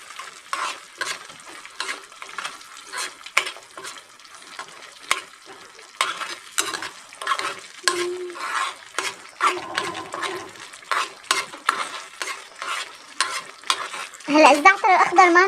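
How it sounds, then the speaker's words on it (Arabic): Green za'atar being stirred in a pan on a gas stove, giving repeated scraping, rattling strokes with a soft sizzle, close and fairly loud in irregular bursts. "هلا راح اضيف عليهم الزعتر، راح احركهم تحريكة وبعدين اطفي الغاز"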